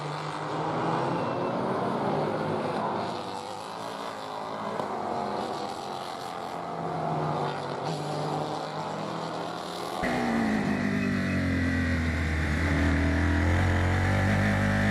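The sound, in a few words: F4 race cars driving past on the COTA circuit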